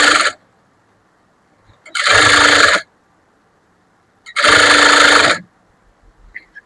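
Sewing machine stitching a lined blouse, running in three separate loud bursts of steady mechanical whirring with quiet pauses between them.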